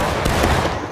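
Platoon musket volley in the War of Rights game, a dense, loud burst of overlapping gunshots that rolls through the whole second with no gap.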